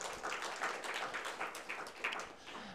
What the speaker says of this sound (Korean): 정기자 권사님 박수로 격려하겠습니다.